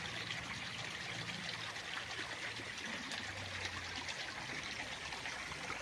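A shallow creek at the edge of a farm lot in Siniloan, Laguna flows steadily, a soft, even trickle and burble of water heard up close and alone without any talking.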